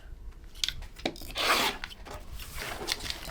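Paper-pieced quilt fabric is cut along marked lines in a quiet room: a steady, close rasping scrape with a louder stroke in the middle and softer rubbing passes around it.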